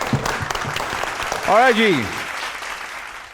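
Studio audience applause on a Pakistani game show, a dense clatter of clapping under a host's voice, with a short sung or whooping tonal swell rising and falling midway.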